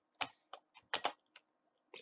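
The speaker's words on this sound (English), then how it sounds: "you have to type in a few hidden commands" Keys tapped on a computer keyboard while hidden commands are entered for a Tower of Hell game, a quick irregular burst of about eight sharp clicks, close and clear in a quiet room.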